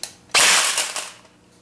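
An Ares G36C airsoft gun fires a single shot on semi-auto, a short sharp pop with a brief mechanical rattle trailing off, close and alone.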